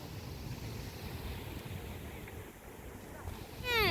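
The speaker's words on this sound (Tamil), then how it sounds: "காற்று பயங்கரமாக அடிக்குது." Strong evening wind gusts through a village garden in the rain, a rough, blustery rush buffeting the microphone that swells louder at the end.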